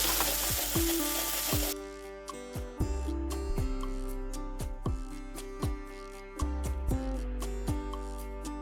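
Spices with cumin and coriander powder frying in oil for ghugni, a steady close sizzle under repeated sharp scrapes and knocks of a spoon stirring the pan.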